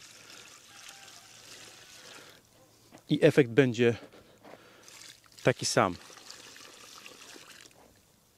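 Water poured from a bucket onto newly planted garden roses, heard in two short splashing pours a couple of seconds apart, while someone speaks Polish over a quiet garden background.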